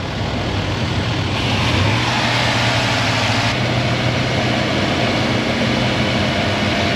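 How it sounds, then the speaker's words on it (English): A car engine idles steadily in a workshop, its speed stepping up and then settling as the target RPM cycles, with a constant low hum and no talking. "engine at operating temperature and idling. Cycle target RPM. RPM should now cycle."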